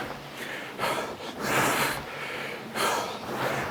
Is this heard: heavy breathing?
yes